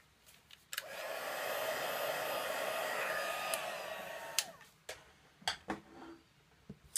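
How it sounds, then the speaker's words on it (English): Heat tool blowing hot air to melt Hero Arts white heat embossing powder on a card panel, a steady close whooshing hum for several seconds that cuts off, followed by light taps and handling sounds. "So now we'll bring in the heat tool."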